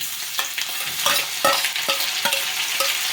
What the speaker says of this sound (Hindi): अब इन मसालों को थोड़ी चटकने देंगे और अब इसमें हम डाल देंगे लहसुन और हरी मिर्च।